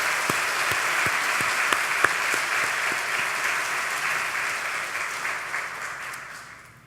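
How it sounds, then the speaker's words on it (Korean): A church congregation claps during a worship service: a dense, steady wave of applause that holds level for several seconds, then gradually thins and fades out at the end. "우리 하나님께 감사와 영광의 박수 올려드리겠습니다."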